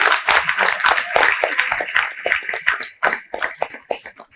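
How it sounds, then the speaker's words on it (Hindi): Crowd applauding for a young girl dancing at a Karni Sena foundation day event in India, a dense run of hand claps with scattered louder claps, steady and fairly close. "इस बच्चे के लिए ताली बननी चाहिए"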